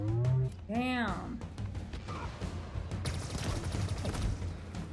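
Gunfire from a weapon in the video game Halo Infinite comes in rapid bursts and scattered shots mixed with other game effects, with a player's voice heard over the action.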